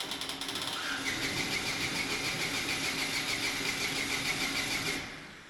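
A snow blower engine runs by itself after cranking, a loud, steady, rattling mechanical drone that holds for about five seconds and then starts to fade.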